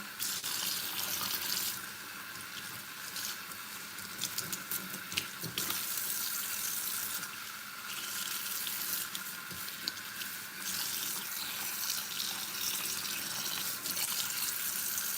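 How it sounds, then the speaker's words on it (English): Running tap water pours steadily over dyed 613 blonde hair being rinsed in a sink, a constant hissing splash with small surges and drips, close and fairly quiet, with no talking. "And I want to rinse this really, really good."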